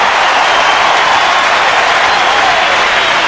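The Adelaide crowd at a 1992 AFL match against Richmond roars after a goal: a loud, steady wall of cheering and applause from a large stadium, with no speech over it.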